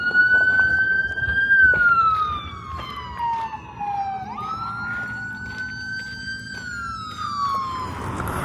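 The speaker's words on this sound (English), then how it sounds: "Yeah, just an ambulance." An ambulance siren wails nearby on a street, sweeping slowly up and down in pitch with a faint rumble of traffic underneath. It stays steady and clear for the whole stretch.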